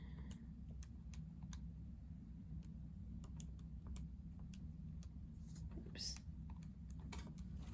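Quick taps of buttons on a calculator as numbers are keyed in, light irregular clicks over a steady low hum and soft speech in a quiet room.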